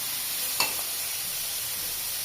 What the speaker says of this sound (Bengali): আর এই যে এদিকে এটা ভাজা হচ্ছে